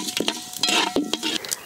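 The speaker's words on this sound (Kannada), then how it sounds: "ನೋಡಿ ಸಾಸಿವೆ ಎಲ್ಲ ಸಿಡಿಲಿಕ್ಕೆ ಶುರು ಆಯಿತು." Mustard seeds spluttering in hot coconut oil for a traditional tempering, with irregular sharp pops and crackles over a steady sizzle close by, alongside a few light stirring and utensil clinks.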